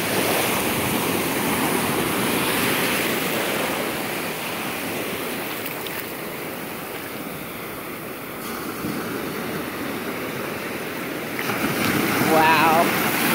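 Ocean waves roll in on a beach in a constant surf wash with wind buffeting the microphone, easing slightly midway and then surging again as another wave arrives.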